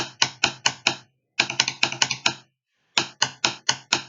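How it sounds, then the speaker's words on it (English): A snare drum plays short buzzing multiple-bounce roll strokes, two bounces each, in quick groups, with brief pauses between bursts, close and fairly loud. "bounce stroke with the Z."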